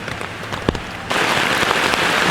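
Heavy rain pours down during a storm at a forest campsite, a dense, loud hiss of drops on surfaces nearby that grows suddenly heavier partway through, with a single sharper thud early on.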